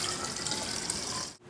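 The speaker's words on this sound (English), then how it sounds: "I need to fill up the cylinder and get it upside down in that trough of water. So I can use this beaker." Water pours from a beaker into a cylinder set in a water trough in a chemistry lab setup, a steady bright splashing stream that cuts off abruptly near the end.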